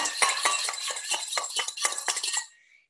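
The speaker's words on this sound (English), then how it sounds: "And whisk your dressing together." A salad dressing seasoned with salt and pepper is whisked in a bowl, a quick run of about a dozen close, rhythmic clinking strokes that stop abruptly near the end.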